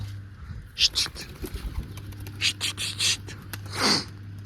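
Pigeons coo in short, soft bursts at close range while young birds are set onto a rooftop perch, the calls scattered between quiet gaps over a low steady hum.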